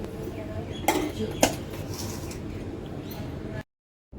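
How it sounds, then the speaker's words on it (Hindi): Metal pots, a pressure cooker and a kadhai clank while being handled for washing in a home kitchen, with two sharp clatters close by amid low background noise, then a brief silence. "ये जो 2-4 बर्तन हैं ये सब अच्छे से धो के रख लेते हैं।"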